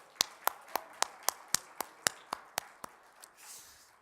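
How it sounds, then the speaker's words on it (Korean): Congregation in a church clapping in unison during a Friday worship service, about a dozen sharp, evenly spaced claps over four seconds, fairly close, then fading into a faint murmur of voices. "우리 감사의 박수를 하나님께 다시 한번 올려드릴까요?"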